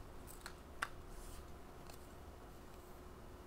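Scissors snipping magazine paper for a collage art journal page, a few quiet, sharp cuts close by in an otherwise hushed room.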